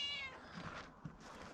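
A cat meows a few times close by on a home construction site, a short harmonic mew at the start followed by fainter trailing calls.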